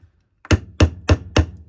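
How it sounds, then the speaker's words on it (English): A hammer strikes a nail four times in an even rhythm, sharp close metallic knocks after a faint tap. "and hammer away."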